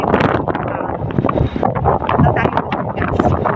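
Strong gusts buffet the microphone on a windy harbourside walk, a loud continuous rumbling roar that swamps everything, with faint voices and bustle in the background.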